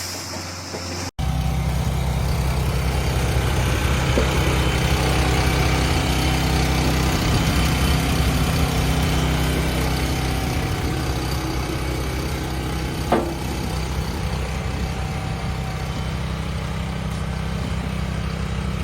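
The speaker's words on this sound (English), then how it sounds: "Its engine hums to life, exhaling thick white plumes that mix with the morning fog." A monster wood splitter's engine idles in morning fog, a loud, steady low hum that holds evenly after a brief sharp start, with one faint click midway.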